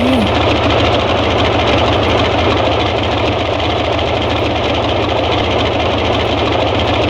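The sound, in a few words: Boeing 247 engine starting up, from Microsoft Flight Simulator 2020 video game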